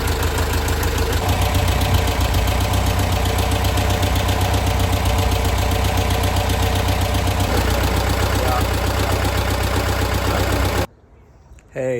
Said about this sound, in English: Wonderful to finally have the engine together and have it running so well.